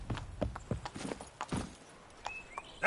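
Hooves clip-clop as Roach, the horse in The Witcher 3, trots at a steady rhythm. The sound is moderately close, with faint game effects and brief tonal chimes toward the end.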